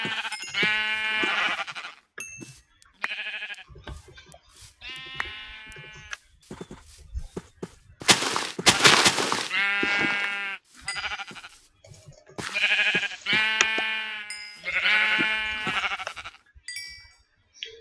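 A flock of video game sheep bleats almost without pause, calls overlapping and stacking in loud, close bursts with a few short dings mixed in.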